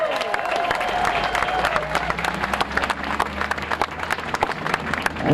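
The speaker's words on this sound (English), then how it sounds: "Let's give him a big, big applause." Rally crowd applauding steadily, a dense wash of many hands clapping with some cheering mixed in, sustained throughout at a fairly close, full level.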